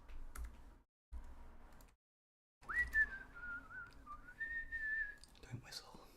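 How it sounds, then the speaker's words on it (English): A person whistles a wavering, sliding tune close by for a few seconds, preceded by soft keyboard typing and clicks, with quiet stretches between. "Don't whistle."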